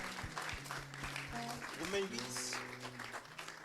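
A church congregation applauds and acclaims during a sermon, giving brief, moderate clapping. Voices call out over the claps.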